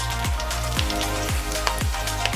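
Chopped onion sizzles in a pan with cinnamon, cardamom, cloves, ginger and a green chili, a continuous close crackle with soft regular stirring sweeps beneath it.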